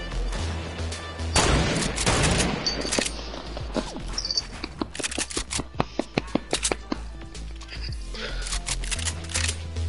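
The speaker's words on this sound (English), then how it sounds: "someone just sniped at me" Sniper fire in a video game: a string of sharp, loud cracks and snaps, some in quick clusters, over a busy background with voices talking.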